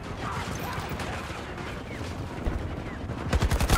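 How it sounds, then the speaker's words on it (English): Rapid gunfire bursts in a Battlefield match, including a pistol shot, crackle through constant loud battle din, with heavier shots stacking up near the end. "He one-shot me with a pistol!"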